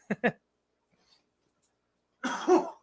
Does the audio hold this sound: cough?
yes